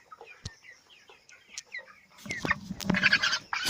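Broiler chickens, about 24 days old, cluck and chatter in short bursts, scattered calls at first, then a louder flurry of clucking and flapping commotion close by.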